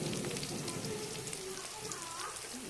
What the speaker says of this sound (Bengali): এই যে পেঁয়াজ আর কাঁচামরিচ তেলের মধ্যে দিয়ে দিয়েছি